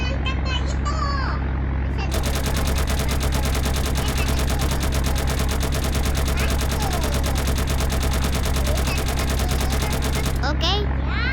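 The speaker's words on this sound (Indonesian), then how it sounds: "aku lagi tembakin" Rapid continuous automatic gunfire from a shooter in the Roblox video game runs loud for about eight seconds after a voice, stopping abruptly before speech resumes.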